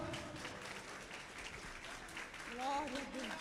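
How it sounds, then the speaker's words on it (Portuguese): Church congregation applauding in a worship service, a steady wash of clapping throughout with voices and singing-like tones rising over it near the end. "Você pode aplaudir ao Senhor?"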